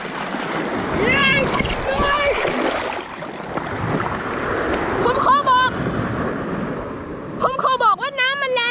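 Strong, forceful sea waves wash and splash around a swimmer, broad rushing noise throughout with someone talking loudly over it and shouting briefly near the end.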